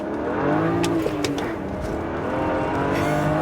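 Turbocharged BMW 335i accelerates hard under boost, a close, strong engine note with rising harmonic tones and a few sharp whooshing bursts over a steady drone.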